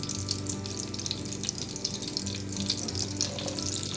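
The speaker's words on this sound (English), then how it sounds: "that water is going to start evaporating out of this butter" Butter sizzling and bubbling in a cast iron skillet as its water cooks off, a continuous crackling hiss with small pops, close and moderately quiet.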